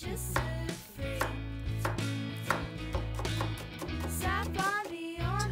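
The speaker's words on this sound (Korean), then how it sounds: "칼로 요 당근을 채로 약게 썰어봐" A knife julienning a carrot on a cutting board, giving rapid, even, close-up chopping taps in a fast continuous rhythm with no voices.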